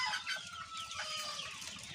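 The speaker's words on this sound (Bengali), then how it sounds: "এখানে তো আপনার মুরগিগুলো দেখতে পাচ্ছি।" Chickens on a poultry farm raised for meat, several birds clucking and squawking at close range in quick overlapping calls, with no human speech.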